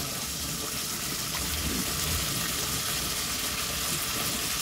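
Shredded cabbage hitting a hot pan for a home stir fry, giving a steady, loud hissing sizzle that holds evenly throughout with no talk.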